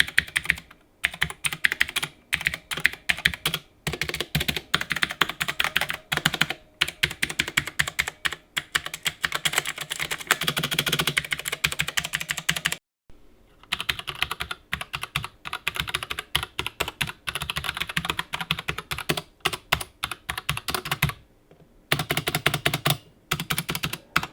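Rapid keystrokes clatter across an inexpensive rechargeable RGB mechanical gaming keyboard in steady bursts of close, crisp clicks, with two brief pauses and no talking.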